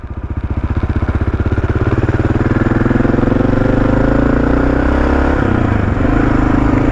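A motorcycle engine runs close and loud as the rider sets off, a steady throbbing idle building into a smooth rising rev and holding there, with a brief shift in tone near the end and no talk.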